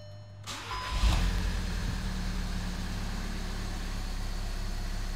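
A CJAA TDI diesel car engine with a Stage 2 ECU tune cranks briefly and catches, then settles into a steady, close idle with a low rumble and no talk.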